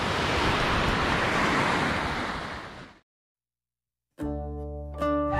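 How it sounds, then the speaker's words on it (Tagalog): Steady rushing surf of waves breaking on a shore at Nasugbu, Batangas, broad and continuous, then it cuts out to silence before a brief tonal sound. "Ayan yung dagat, maganda yung dagat mga Paps."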